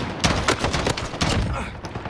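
M16A4 rifle fire in Call of Duty Modern Warfare: quick, close bursts of gunshots, several clipped rounds in a row over about two seconds.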